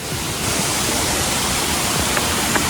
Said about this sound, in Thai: อันนี้ก็จะเป็นน้ำตกจำลองนะครับ